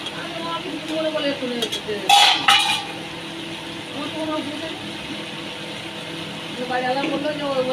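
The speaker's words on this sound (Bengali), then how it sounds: "এই যে নেড়ে দিচ্ছি, ভালো রকম কষা হয়ে যায়।" Chicken scraps are stirred and sautéed in a cooking pot in a home kitchen, giving scraping and clinking of a utensil against metal with one louder clatter near the start, amid background noise and a voice talking intermittently.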